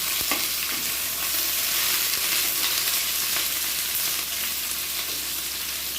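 Green chillies, tomato, capsicum and onion sizzling and frying in a hot pan, with occasional scraping clicks of a spoon stirring, steady and continuous throughout.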